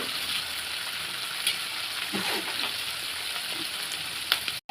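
Onions frying in a pan for a Tamil fish curry give off a steady, close sizzle with soft crackles and an occasional stir, with no talking over it.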